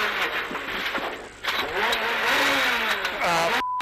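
A rally car's engine revs hard at a tight handbrake hairpin while the gearbox is failing, with a loud rising and falling whine of changing pitch and a brief dip before it picks up again.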